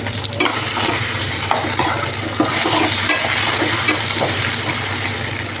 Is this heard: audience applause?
no